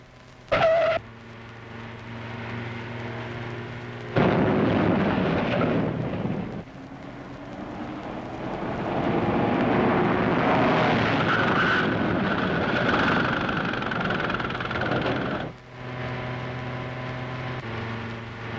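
Car driving fast in a 1941 film noir crime scene, a loud continuous engine roar that surges and swells, with a few abrupt shifts in intensity.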